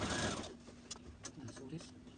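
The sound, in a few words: sewing machine stitching a jumpsuit seam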